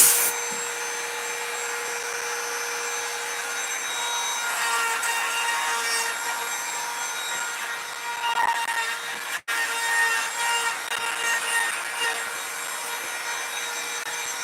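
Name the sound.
router bit carving wood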